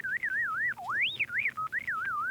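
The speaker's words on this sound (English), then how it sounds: "The whistles." Novelty whistles blown close by in a warbling, sliding sequence, the pitch swooping up and down in quick wavy trills with brief gaps between phrases.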